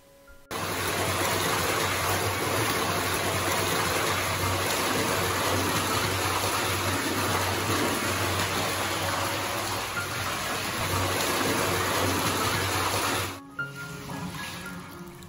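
Hot spring water pours steadily into a bath at a Japanese onsen, a loud continuous gushing rush that runs unbroken for most of the stretch before cutting off near the end.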